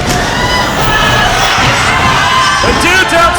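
A packed wrestling arena crowd cheers and shouts loudly and continuously, with whoops rising above the roar while a commentator talks over it.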